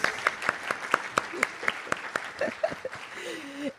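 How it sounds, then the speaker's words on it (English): Applause for an inductee at a PTK honor society induction ceremony, with a few clearly separated claps in a steady rhythm from a small audience, thinning out as voices begin near the end. "let's give Samantha a round of applause"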